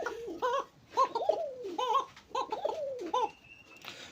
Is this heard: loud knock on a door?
no